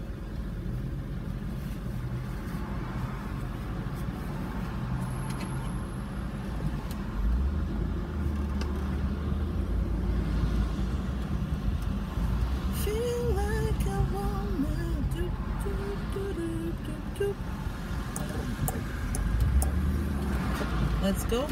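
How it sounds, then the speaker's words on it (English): A car sits in stalled Los Angeles traffic, its engine a steady low rumble with road noise and faint passing sounds throughout. "LA traffic, it's a real thing."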